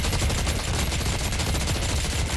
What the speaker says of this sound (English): So you do have to wind this up before you start shooting.